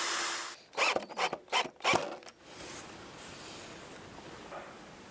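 Countertop support brackets being cut for a canopy build, a quick series of about five sharp rasping strokes close by, then a faint quiet background.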